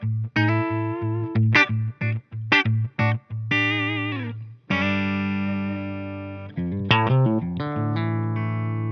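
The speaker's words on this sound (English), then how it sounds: "Here's that reverb at about 9 o'clock." Electric guitar through a Blackstar St James JJN 50 watt tube amp head with its reverb set low, playing distorted chords and held notes; short stabs give way to sustained ringing chords with a subtle reverb tail, loud and close with no talking.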